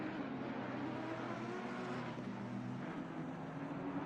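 A McLaren GT race car engine in a sim racing game at Barcelona, a faint, steady distant drone held throughout with little change in pitch.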